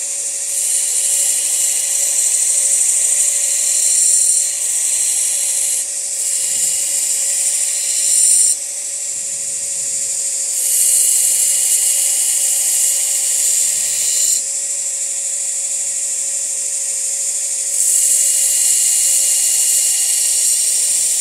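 A grinder shaping the bevels of a dagger blade in a bladesmith's shop, giving a steady high-pitched whine that runs on continuously, with short dips and changes in tone as the blade is repositioned.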